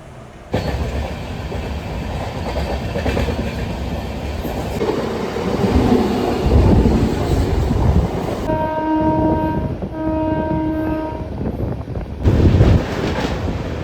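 A train pulls out of Kharagpur Junction station, a loud steady rumble of rolling cars with wind buffeting, a sustained two-tone horn sounding twice midway, close and continuous.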